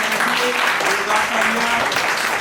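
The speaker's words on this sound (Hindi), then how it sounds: "इसके लिए भी जोरदार तालियां" Audience at a Valmiki Jayanti school event claps steadily for Nancy, the second-place winner, a dense even applause over about two seconds with faint tonal sounds beneath.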